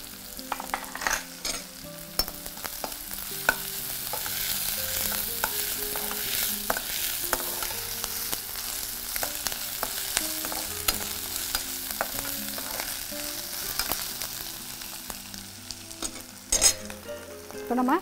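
Ginger frying in a pan as a home cook stirs it, a steady sizzle with repeated scraping and clinking strokes of a spoon, close and moderately loud with no talking, while faint background music plays underneath.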